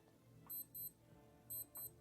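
Casio G-SHOCK GM-2110D steel watch alarm chirps in two pairs of short, high electronic beeps, crisp and close against quiet background.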